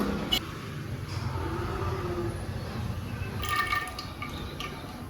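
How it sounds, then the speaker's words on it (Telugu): A cup of cooking oil pours into a pressure cooker on a lit stove, a continuous close liquid trickle and splash that thins out into a few drips. "కప్పు నూనె వేసుకుందాము."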